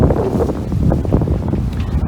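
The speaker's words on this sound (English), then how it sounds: "Feels really more like a west wind here than it is a south wind, but maybe a little southwest." Wind buffeting a sailboat heading slowly into the wind under engine power, a loud, continuous rushing roar of gusts hitting the microphone with no voices.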